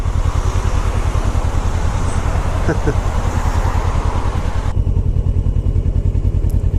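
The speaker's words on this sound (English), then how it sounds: "just roll out the clutch to the bike point, give it a tiny bit of throttle, bring out the clutch fully out, you can just give it a little bit of revs and roll on" A 600cc motorcycle pulls away under clutch and throttle, its engine note loud, close and continuous throughout, with a drop in brightness near the end.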